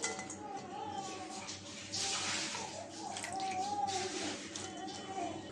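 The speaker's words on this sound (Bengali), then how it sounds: "আলুটা ধুয়ে নিয়েছি," Chopped potatoes being rinsed in water in a home kitchen, a steady close splashing and sloshing with light clinks of a pot or bowl, continuing throughout without a break.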